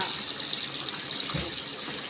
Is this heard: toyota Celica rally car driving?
no